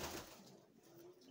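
A late-season young pigeon in a breeding loft gives a short, close coo, low and soft, after a brief rustle.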